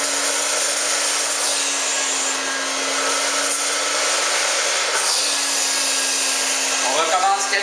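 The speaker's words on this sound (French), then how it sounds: "Et on aspire." A carpet-cleaning vacuum pulls water out of a rug after a plain-water rinse meant to lift paint dye, making a steady, loud, close whine that holds throughout with slight rattling near the end.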